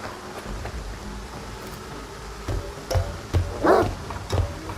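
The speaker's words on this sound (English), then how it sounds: "Now the dogs show up once I start climbing." Dogs bark in the video game STALKER 2, several sharp yips and barks at irregular intervals over a low ambient rumble, growing more frequent and louder in the second half.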